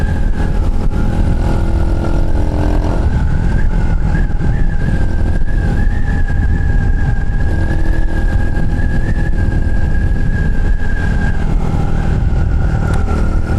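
A Chinese motorcycle ridden flat out up a hill gives a loud, close, continuous engine roar with a sustained high whine held steadily throughout, without voices.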